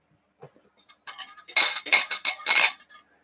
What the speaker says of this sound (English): For a clinking sound.